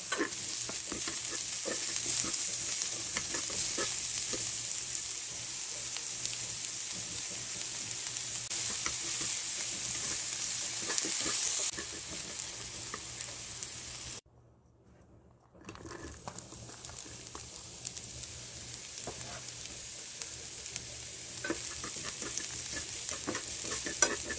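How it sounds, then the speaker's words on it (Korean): Zucchini and carrot stir-fried with a little salt, giving a steady close sizzle with scraping stir strokes throughout and a brief near-silent gap midway before the sizzling resumes. "호박과 당근은 소금을 약간 넣어서 볶아주세요"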